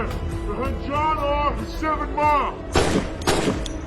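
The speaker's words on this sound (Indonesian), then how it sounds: "1 tembakan lagi." Gunfire in the crime film Four Brothers: someone narrates over it, and a couple of sharp, punchy shots come near the end.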